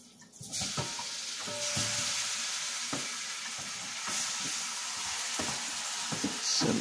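Chicken dropped into hot, darkened curry for Jamaican-style curry chicken, a loud steady sizzle that jumps up at once and keeps frying with light stirring knocks, no talk.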